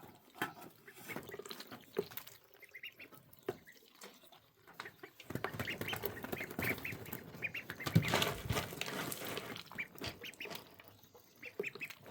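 Domestic ducks quack intermittently near a freshly filled water dish, with a denser burst of splashing and quacking midway, close by.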